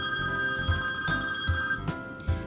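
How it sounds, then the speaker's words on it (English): A telephone rings with a steady, bright electronic trill that repeats in short pulses, fairly quiet and heard alone. "the phone rings."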